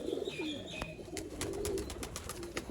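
A feather-footed female pigeon coos softly a few times nearby, low rolling calls against faint background noise and a few light clicks.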